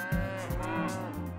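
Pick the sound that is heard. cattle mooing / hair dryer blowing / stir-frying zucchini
cattle mooing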